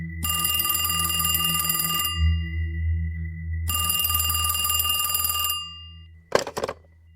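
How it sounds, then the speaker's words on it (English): A classic bell telephone rings loudly twice, long metallic trills separated by a pause, followed by a brief clatter as the receiver is picked up. "A week later, the phone rang again,"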